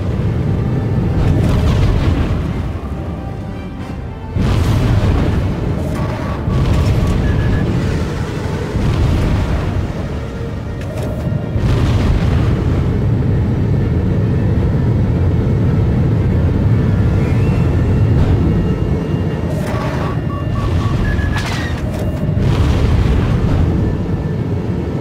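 Missile explosions and engine roar during space combat in Star Wars: The Old Republic's Galactic Starfighter mode, with loud booms recurring every few seconds over a constant rumbling drone that never lets up.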